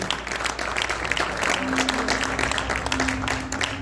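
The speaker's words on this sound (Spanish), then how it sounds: "Alguien denle un aplauso al que vive." Church congregation applauding during a Spanish-language sermon, dense steady clapping filling the whole moment with a faint sustained tone underneath.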